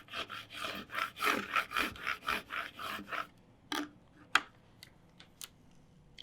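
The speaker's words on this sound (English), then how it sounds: "I'm going to take the scraper and I am just going to scrape it along the lines" A scraper is dragged along the cut lines of a design made on a Scan N Cut cutting machine: a quick run of rhythmic rasping strokes, then a few separate scrapes spaced apart, close and fairly quiet.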